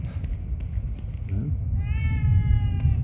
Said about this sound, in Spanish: Ya ha vuelto gatito.